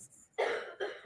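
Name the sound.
woman coughing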